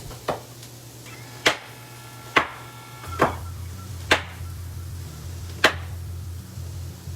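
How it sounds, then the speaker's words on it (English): A knife chops leftover yellow pepper into cubes on a cutting board, giving six or so sharp, separate knocks at uneven intervals over a low, steady background hum. "I'm just going to kind of cube them down."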